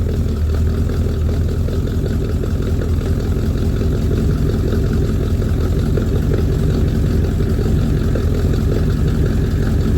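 A 1979 Chevrolet El Camino engine runs steadily while cruising, a loud, constant low rumble with broadband road and wind noise throughout and no voices.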